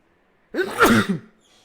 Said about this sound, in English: I gotta be careful when I sneeze because of my nose